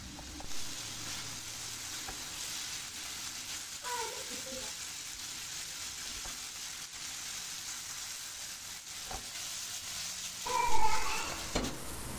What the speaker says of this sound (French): Je vais faire revenir ces légumes pendant environ 5 minutes sur feu assez moyen.